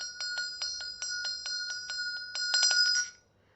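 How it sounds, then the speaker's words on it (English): A Tibetan Buddhist ritual hand bell rings close by in a steady series of bright, even strikes, quickening into a rapid trill before being cut off abruptly rather than left to ring out. "And when you ring the bell,"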